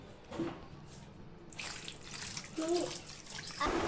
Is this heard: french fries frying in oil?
no